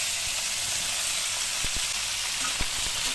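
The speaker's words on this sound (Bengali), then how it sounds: "এবার এইগুলোকে ভালো করে ভাজা ভাজা করে নেব।" Potato, sweet potato, pumpkin and eggplant frying in oil, a continuous close sizzle with a few soft stirring knocks against the pan.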